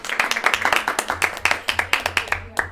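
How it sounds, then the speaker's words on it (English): A small audience at a family parenting talk claps in a short round. Individual hand claps are distinct and fairly close, with a voice faintly present beneath them. "We wanna give you a round of applause."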